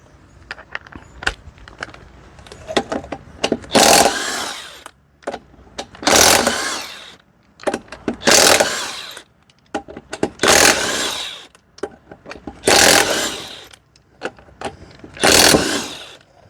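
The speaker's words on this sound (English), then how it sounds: "So let's pull the wheel off." Hand tools working on a 4x4 wheel during a DIY hub and bearing swap, with repeated bursts of loud ratcheting and clanking broken by short quiet gaps, roughly six strong bursts in a stop-start rhythm.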